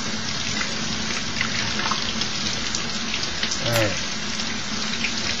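Tap water runs steadily into a sink, rinsing a cleaned crab, a continuous close hiss with a brief splash near the end and a short spoken word.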